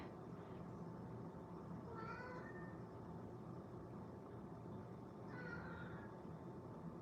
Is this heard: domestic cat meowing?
yes